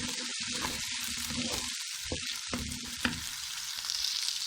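Vegetables with whole chilies frying in a hot pan, a steady close sizzle and crackle with stirring scrapes breaking through now and then.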